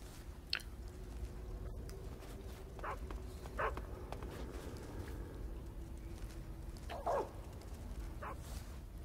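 Guard dogs bark in Metal Gear Solid 3 on European Extreme difficulty, a few short separate yelps and barks spread over a steady low game ambience, with no speech.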